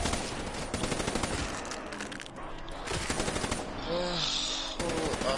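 Rapid automatic gunfire in a zombie shooter video game, dense bursts of machine-gun fire running nearly continuously at close, loud level, with brief lulls and some faint game effects layered in.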